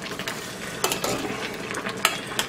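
A utensil stirs boiling onions in a pot on a stovetop, producing close, irregular scraping and clinking strokes over a steady bubbling sizzle, with no talk.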